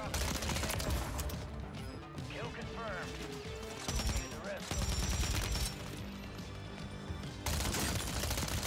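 Dense automatic LMG and Striker shotgun fire in Warzone, loud and continuous rapid bursts with clattering impacts, layered over game sounds and a talking player.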